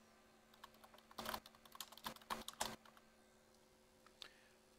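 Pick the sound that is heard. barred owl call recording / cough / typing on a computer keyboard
typing on a computer keyboard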